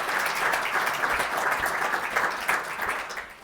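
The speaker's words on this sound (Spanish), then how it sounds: "un fuerte aplauso para Juan" Warm audience applause at a book presentation on the history of Labastida, an Álava town, with steady, dense clapping that tapers slightly at the end.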